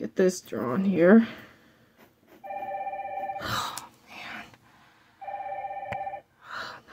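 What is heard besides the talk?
telephone ringing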